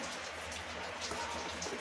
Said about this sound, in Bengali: ওদিকে বৃষ্টি জোরে এসে গেছে